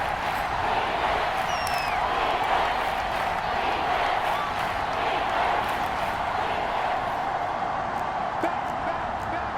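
A stadium crowd in the video game Madden NFL 22 roars and cheers steadily ahead of a big third down, a loud, continuous wash of noise with scattered claps.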